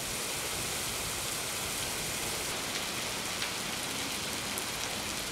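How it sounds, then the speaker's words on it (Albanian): Heavy rain falls on Korçë during a Monday morning storm, a dense, steady, unbroken downpour of hissing drops filling the whole scene at an even, loud level. "Mëngjesi së hënës në rajonin e Korçës ka sjellë shi të dendur dhe erë të fortë"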